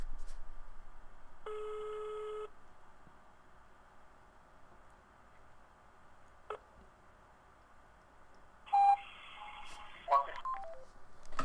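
A telephone call rings out while waiting for someone to pick up: a single steady ringback tone lasts about a second over quiet room noise, followed later by a few brief clicks and louder bursts.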